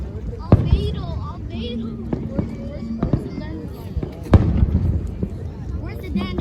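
Fourth of July fireworks burst over Duluth, Minnesota, as several sharp booms and crackles go off at irregular intervals, some near and loud, with people talking and calling out between and over the blasts.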